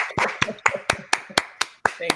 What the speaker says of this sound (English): You guys can clap with me so they know.